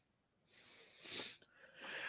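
A single sneeze, breathy and close, building from a sharp inhale into a forceful burst with a trailing snort-like exhale.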